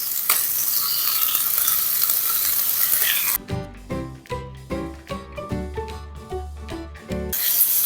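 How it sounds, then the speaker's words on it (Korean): Thin-sliced beef brisket hits a pan of softened onions and is stir-fried, loud sizzling giving way to choppy scraping and stirring strokes, then the sizzle swells again. "여기 이제 우삼겹 넣고 볶아주시는데"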